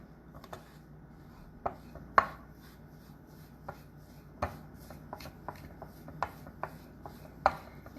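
A spoon stirs thick brownie cookie dough in a bowl, giving soft scraping rubs with a few sharper knocks against the bowl at irregular intervals, close and fairly quiet.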